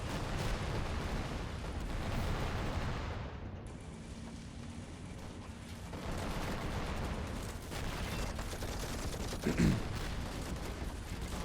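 Desert Storm-era tank battle in a war mod video game, with Abrams tanks, Bradleys and Iraqi T-72s: a dense, sustained rumble of distant gunfire and explosions, broken by one sharper blast near the end.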